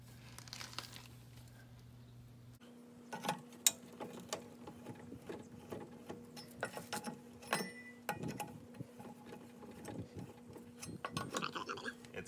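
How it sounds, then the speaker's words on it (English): A ratchet loosens the wheel bolts on a 2002 Ford Focus ZX3, producing faint, close clicking in short uneven bursts over a low background hum, with no talking. "So first thing you need to do is take off these 4 bolts here."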